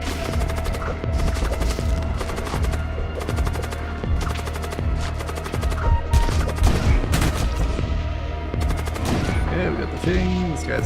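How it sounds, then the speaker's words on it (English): A blood cult warship opens fire in the Void War video game: repeated bursts of loud gunfire and booming impacts crackle across the whole stretch, layered over a low rumbling background. "It reacts aggressively to your presence and opens fire."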